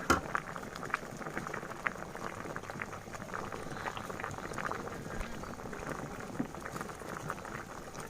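Snakehead fish soup with pickled bamboo shoots and holy basil boiling hard in a pot, a dense continuous bubbling and gurgling close up, with no talk.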